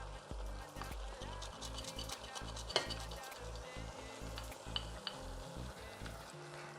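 Chicken pieces sizzle steadily in a hot pan while being stirred, with scraping and a few sharp clinks of the utensil against the pan. The sound is continuous and close.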